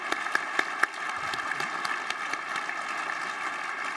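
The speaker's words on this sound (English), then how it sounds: "let's have a round of applause for Chairman Svinicki and our EDO, Margie Doane" An audience at a nuclear regulatory conference morning session applauds, a continuous wash of clapping with a few louder individual claps, heard at a moderate distance.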